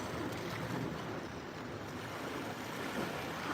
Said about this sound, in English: the wind's blowing in, and that causes the big waves